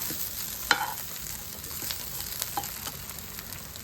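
Grated coconut fries lightly in a pan with a soft, steady sizzle and a few small clicks and pops, close but quiet, with no one talking.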